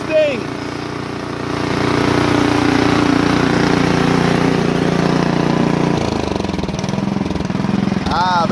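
A 24-inch Craftsman snowblower engine idles steadily at close range with a low, even drone, its pitch dipping briefly near the end while a voice talks over it.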